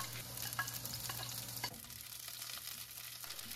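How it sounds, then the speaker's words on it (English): Onion and the white part of green onion stir-frying in hot oil over medium-high heat, a steady crackling sizzle with stirring scrapes, close and fairly quiet, no talk. "When the oil is hot, add the onion and the white part of the green onion."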